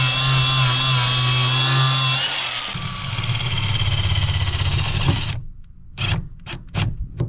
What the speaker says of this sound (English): I'm gonna get to grinding these grounds